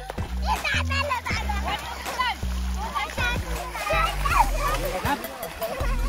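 Children splashing in water at a village family outing, repeated splashes and sloshing mixed with lively kids' shouts and chatter, an adult voice talking over the play, with a humming drone running underneath.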